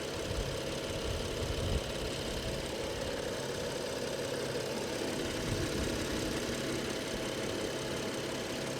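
A twin-turbo 4.4-litre V8 car idling at a Copart salvage lot, a steady, even engine rumble heard close and alone throughout, with no speech.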